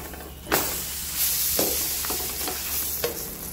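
Butter sizzles and fries steadily under a cauliflower-stuffed paratha on a hot pan, a close, continuous hiss with a few sharper crackles and stirring scrapes.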